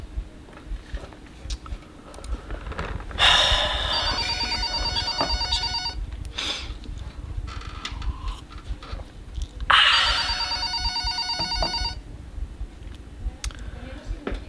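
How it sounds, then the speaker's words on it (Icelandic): A telephone rings for an incoming call, two long electronic ring bursts a few seconds apart, clear and close over a low room hum. "það er símtal hérna á hinni línunni"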